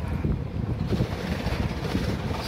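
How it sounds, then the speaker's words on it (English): Steady wind gusting outdoors in Melbourne, a broad continuous rumble buffeting the microphone throughout with no talk, loud and close. "It's quite windy."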